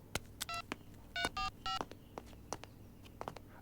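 Telephone keypad dialing tones during a tense dubbed movie scene: a run of short electronic beeps in uneven rhythm, with a few brief higher tone bursts among scattered clicks, clear and alone without talk.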